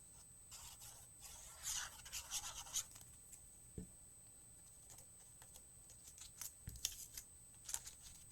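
Paper for a 6x6 western-themed birthday card is cut with scissors, giving faint, scattered snips and light rustles in a quiet room with no voices.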